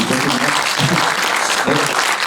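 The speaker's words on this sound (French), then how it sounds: "Je crois qu'on peut l'applaudir." A theatre audience breaks into dense, loud applause, a continuous wash of clapping hands that fills the room throughout.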